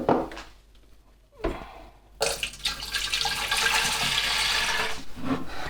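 Hot water runs into a Pinter 2 mixing bottle, a brief gush and then a steady rushing pour that keeps going for several seconds, close and fairly loud.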